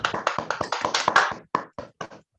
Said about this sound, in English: Let us give a huge round of applause to our next panelist